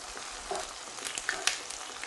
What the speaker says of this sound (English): continue to mix this and just slightly darken the onions a bit more. We just want it caramelized.